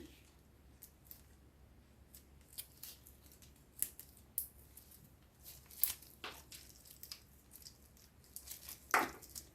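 Scissors cut through orchid roots in a series of soft, irregular snips close by, with light rustling between the cuts.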